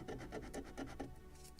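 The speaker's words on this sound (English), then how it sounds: "just slight sanding of this corner" Light sanding strokes on the corner of a wooden deck of a Model Shipways kit of the 1776 gunboat Philadelphia, about six quick, close rasping passes in a steady rhythm, fairly quiet with no talk.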